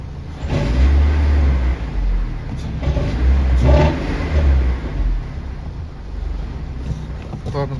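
A VAZ 2112 car engine idles at steady revs, a continuous low rumble that holds an even level close by, with a few brief swells in loudness and no clear change in pitch.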